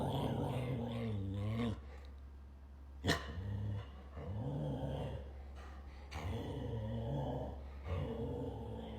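A dog growls and barks in reaction after a person barks at it, its rough harmonic vocalizations coming in several close bursts with short pauses between them.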